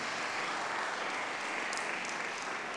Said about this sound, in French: Je vous propose de vous applaudir, d'applaudir tous les intervenants présents ce matin.